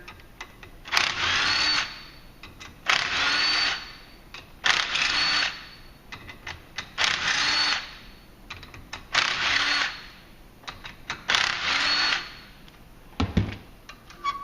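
Power tool running in short repeated bursts to loosen 10 mm clutch bolts on a 2018 Polaris Ranger XP 1000, about seven close, loud whirring pulses separated by pauses, followed by a clunk near the end.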